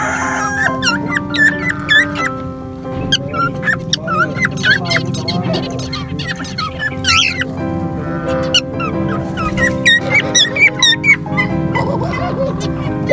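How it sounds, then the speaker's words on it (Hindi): A pet cockatiel gives repeated bright chirps and whistles, close and lively, over a background of other birds and domestic noise. "हमारा कॉकटेल बहुत प्यारी प्यारी आवाज़ें दे रहा है"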